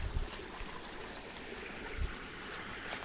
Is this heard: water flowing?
yes